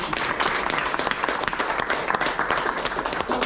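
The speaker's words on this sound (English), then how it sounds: "I'm going to lead the clapping" An audience applauds after a talk, a dense continuous wash of many hands clapping at close range, steady and fairly loud throughout with no pauses.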